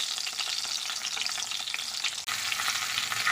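Fish heads sizzle in hot mustard oil in a kadai, a bright, even crackling that holds steady nearby, broken by a brief dip partway through before resuming just as strongly.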